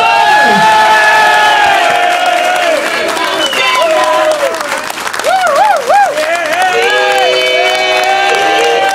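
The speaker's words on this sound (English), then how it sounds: "You give him a massive round of applause" A large crowd at a Two Tone Village presentation claps and cheers loudly for Jerry Dammers, with whoops and shouts rising over sustained applause and voices calling out through the ovation.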